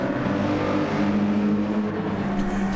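Mercedes-AMG GT3 race car engine at Watkins Glen in Gran Turismo 7, a steady loud drone holding a sustained note throughout with slight pitch shifts and no voices.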